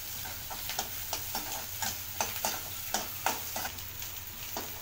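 Garlic cloves and small shallots sauté in hot oil for a Tamil garlic kuzhambu, a steady close sizzle broken by a string of sharp, evenly spaced scraping strokes from stirring, with no voices.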